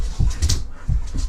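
A dog in a kennel in the background whines and howls in short bursts, two or three muffled cries separated by brief pauses, with no speech.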